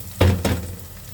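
Macaroni sauce sautéing in a pan gives a loud sizzle, with two quick hissing bursts as it is stirred, then a steady lower frying crackle.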